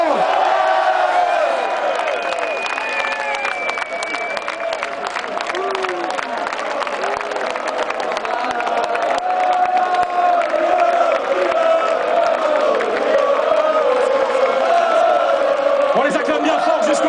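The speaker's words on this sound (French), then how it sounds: "On les acclame bien fort jusqu'au bout de la place" Standard de Liège supporters fill a city square with loud, sustained crowd cheering, whoops and shouts, a dense roar that carries on throughout with a voice calling out above it.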